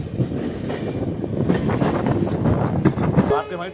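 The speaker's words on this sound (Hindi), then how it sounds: "इसके बाद हमारी ट्रेन पहुँची चंद्रपुरा" The Shaktipunj Express runs on rails through Jharkhand near Bokaro, a loud, close rumble with clattering wheel noise and some wind buffeting throughout.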